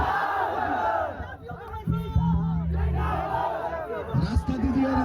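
A large crowd at a political rally in Seemanchal shouts slogans in loud, sustained collective roars. Raised voices and general hubbub stay continuous, with a swelling shout near the middle.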